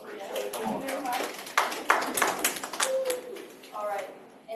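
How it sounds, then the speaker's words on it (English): A classroom round of applause: a group claps in a burst of sharp, uneven claps that fades after a few seconds, with a teacher talking over it. "Round of applause for each other."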